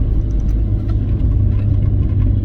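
Austin Rover Maestro Clubman engine pulling under way, a steady loud low rumble with a mid-pitched drone and road noise, continuous and close throughout with no talking.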